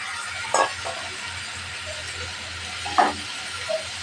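Fried koi fish and chopped tomato stirred into a sizzling spice paste in oil, with a steady close hiss of frying and two louder scraping bursts from the stirring.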